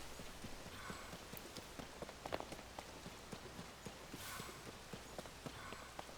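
Hooves of a horse in the video game The Legend of Zelda: Tears of the Kingdom clip-clop in a fast, steady rhythm, soft and slightly distant, over a faint hissy background with no speech.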